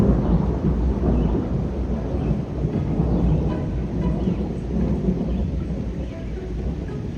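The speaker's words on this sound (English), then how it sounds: "Echoing thunder is rolling through the mountains and surrounding valley right now." Thunder rolls and echoes through mountains and the surrounding valley in New England, a continuous deep rumble filling the whole stretch with no talking.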